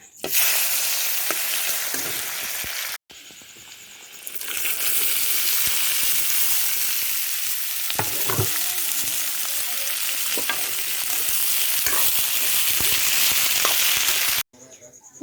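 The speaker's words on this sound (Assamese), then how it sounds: "আলু আৰু এইফালে দাংবডি এতিয়া ভাজি লওঁ।" Potatoes and dried lentil dumplings frying in hot oil, a steady loud sizzle that runs almost continuously, broken by two brief cuts, with occasional stirring clinks.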